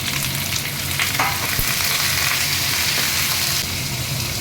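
Potatoes dropped into hot oil with curry leaves and onion, frying in a steady, loud, close sizzle with light stirring knocks, continuous from start to finish.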